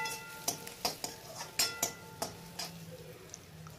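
A spoon stirs fried onion and cumin together in a pan for a masala bitter gourd dish, giving a series of sharp metallic taps and scrapes in an irregular rhythm. The sound is close and fairly quiet.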